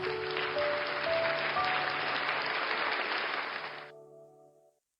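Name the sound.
applause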